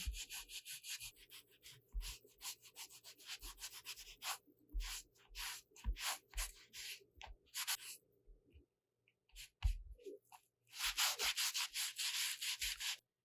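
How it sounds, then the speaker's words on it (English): An old washcloth rubs damp paper off an acrylic image transfer in irregular scrubbing strokes. The strokes come in short bursts with pauses, then a longer, steadier stretch near the end. "I find an old washcloth is a really useful way to remove the excess paper"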